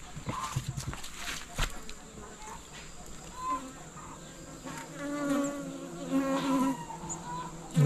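Bees swarm around wooden hive boxes heavy with honey, a dense close buzzing that drones on throughout with wingbeat whines rising and falling, a few knocks early on and faint talk underneath.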